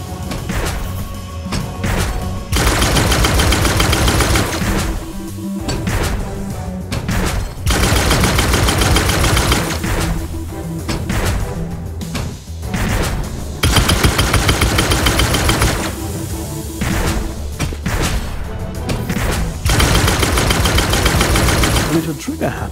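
Sustained bursts of weapon fire in the game Gunnhildr, loud and dense, coming in several long volleys separated by short pauses, with heavy low thumps running under the shooting.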